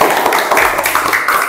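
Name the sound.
class clapping for a student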